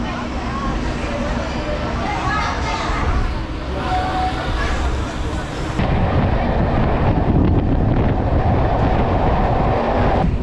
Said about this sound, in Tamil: இப்போ ட்ரெயின் உள்ள என்ட்ராவர் தாங்க மதுராந்தகம் ரயில்வே ஸ்டேஷன்